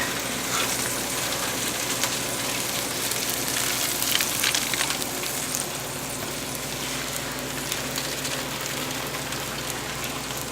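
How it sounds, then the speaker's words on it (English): Goat meat sears in a hot pan, a dense steady sizzle and crackle holding at an even level throughout, close and loud with no talking. "checking your goat meat periodically until it's developed a nice brown seal on the outside, almost a crispiness"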